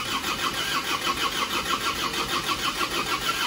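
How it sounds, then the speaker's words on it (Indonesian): An Isuzu Panther pickup engine, just rebuilt, cranks and starts with a loud, steady, rhythmic churning pulse that holds throughout, close to the microphone. "Kita starter mobil ini."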